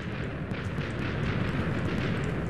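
A video game explosion, a dense, sustained roaring blast of broadband noise with heavy low rumble that stays loud and rolling throughout.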